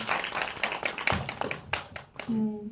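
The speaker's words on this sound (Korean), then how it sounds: "큰 박수 부탁드릴게요" Audience clapping at a short film festival talk, a short burst of scattered hand claps mixed with voices, fading as a tone-like sound rises at the end.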